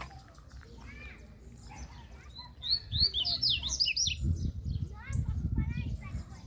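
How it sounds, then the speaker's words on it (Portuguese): Loose wild birds, including free-flying papa-capim, chirping and singing outdoors in quick bright bursts that cluster into a lively chorus midway, with faint low sounds and murmuring beneath. "Tá cheio de passarinho voando aqui mesmo."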